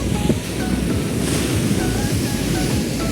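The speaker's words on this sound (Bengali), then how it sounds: "খুবই উত্তাল পাতাল বৃষ্টি হইতেছে গাইস" Heavy rain and strong wind lash a seashore, making a dense, steady roar with wind buffeting the microphone and surf churning underneath throughout, with no voices.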